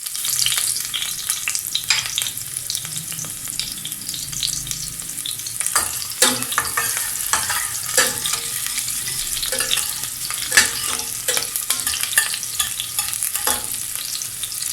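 Chopped onion frying in about two tablespoons of hot oil for karee salan, a constant close sizzle broken by scraping stirs and light spoon taps.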